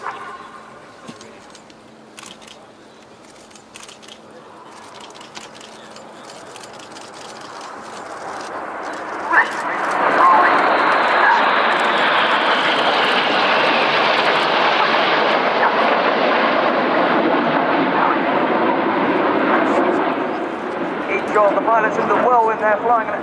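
Red Arrows jets flying the Whirlwind manoeuvre at an air show rise from distant rumble into a loud, sustained roar that fills the second half, with crowd chatter and a commentator's voice over it.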